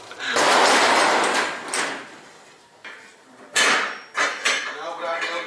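An Estes pickup-and-delivery truck door swings open and shuts without squeaking, giving a few loud, close bangs and rattles with brief pauses between them.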